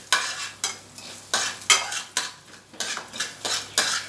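Spices such as cumin and asafoetida sautéed in a pan for an herbal kashayam, a spoon scraping and knocking against the metal in a regular rhythm, about a dozen strokes over a soft sizzle.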